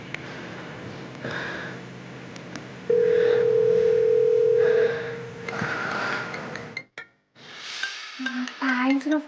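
A telephone dial tone sounds as a steady, loud tone lasting about two seconds while a call is being placed, surrounded by quiet room noise and a few soft handling clicks, followed later by brief talk.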